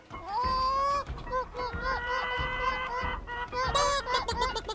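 People imitate chickens with loud, nasal, honking squawks, one call after another in an uneven rhythm. The calls are close and fill the whole stretch with almost no pauses.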